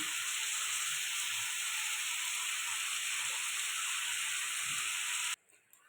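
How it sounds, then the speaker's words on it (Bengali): Pumpkin, potato and shrimp sauté in a hot pan with a steady, loud, even sizzle and hiss that runs unbroken for several seconds before cutting off abruptly; no one speaks. "এটা ভালো করে কষাতে থাকবো"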